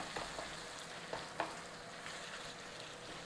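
Ground beef in tomato sauce simmers and fries in a pan, a soft continuous sizzle with a few light stirring scrapes, faint and close.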